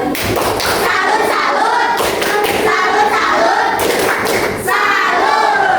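A group of primary school children clap their hands together in a quick, uneven burst of claps, with thuds and a few shouts mixed in.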